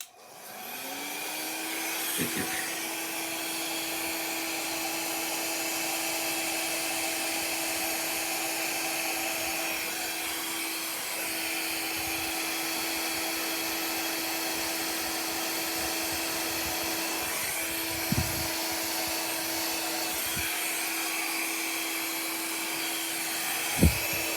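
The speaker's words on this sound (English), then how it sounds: "here's the blow dryer again" A hair dryer whirs up and blows paint steadily and loudly for the whole stretch, with a constant motor whine and a few faint knocks.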